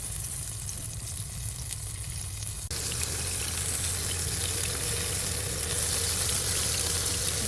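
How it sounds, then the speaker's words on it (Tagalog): Mushrooms sizzle and crackle in hot olive oil, a steady hiss that suddenly grows louder and brighter partway through, with no talking. "Prito lang natin ng 3 minutes."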